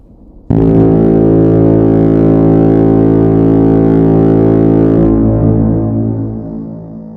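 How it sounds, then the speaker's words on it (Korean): A trumpet-like horn blast sounds in a Bible story retelling of Mount Sinai, entering abruptly and holding a loud, steady, brassy tone for several seconds before fading out. "그리고 나팔 소리가 들리기 시작했어요."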